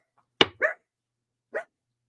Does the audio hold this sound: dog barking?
yes